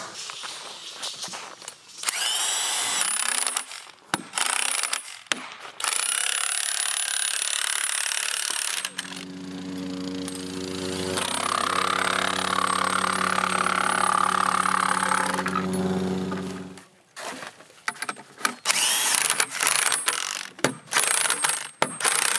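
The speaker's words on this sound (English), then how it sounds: "then we tighten the mud sill with a power tool" A power tool tightens the bolts on a mud sill while a pony wall and subfloor are framed. A steady motor whine holds for about seven seconds mid-clip, with scraping and knocking of handled wood before and after.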